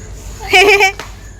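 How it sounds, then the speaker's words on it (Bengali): A single goat bleats once, a short wavering cry close by against quiet background noise. "আমাদের পাশে বাড়িতে যত ছাগল বাচ্চা"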